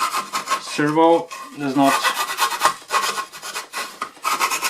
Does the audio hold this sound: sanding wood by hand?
yes